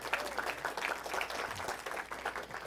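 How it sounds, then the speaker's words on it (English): An audience claps for a young girl who has come up on stage as a volunteer, with continuous, moderately loud applause of many hands filling the room. "A big round of applause for this young lady"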